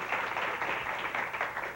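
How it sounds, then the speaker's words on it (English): A television studio audience claps for a newborn baby girl, brief steady applause of many hands at moderate distance, with no talking. "she's getting a round of applause now"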